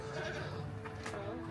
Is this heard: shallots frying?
no